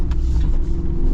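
A modified Jeep Wrangler Rubicon 392 V8 revs hard while drifting, with a loud, deep, continuous engine roar heard close up.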